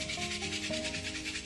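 Hand drill fire-making, a wooden spindle twisted between the palms against a wooden board, giving a continuous close rasping rub that pulses steadily with each stroke, with no voices.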